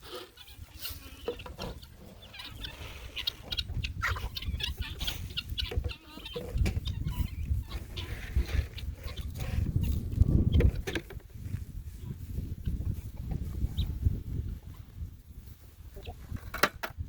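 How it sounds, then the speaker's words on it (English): Farm chickens waiting for feed cluck and squawk continuously at close range, with rustling and wing flaps mixed in, no talk. "let's get these chickens fed because they're trying to fly up"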